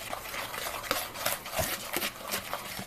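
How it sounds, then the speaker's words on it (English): A whisk beating dry muffin ingredients together in a bowl, a brisk rhythmic scraping and clinking of wire against the bowl, close and continuous with regular strokes. "So now we're going to go ahead and mix all of our dry ingredients together."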